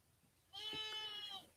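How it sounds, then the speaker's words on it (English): A young white lamb gives a single clear, nasal bleat lasting about a second, close and loud against a quiet background. "y'all hear that baby sheep in the background?"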